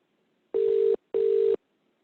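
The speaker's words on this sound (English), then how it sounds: "that's actually ringing on my mobile device here" A video call ringing tone on a mobile phone sounds as two short, identical electronic beeps, each about half a second long with a brief gap between them, clear and close against near silence.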